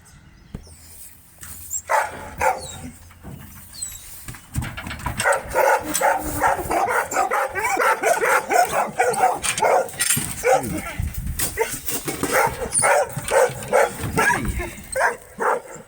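Several farm dogs bark and yip excitedly nearby as they are let out to work sheep, a rapid, overlapping burst that builds and keeps going, with a voice briefly heard early on.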